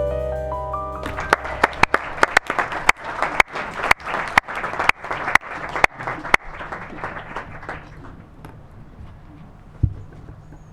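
An audience bursts into applause after a speech honouring a communications team, loud clapping punctuated by a few sharp cracks, sustained for several seconds before tapering off to scattered claps and a final lone thump.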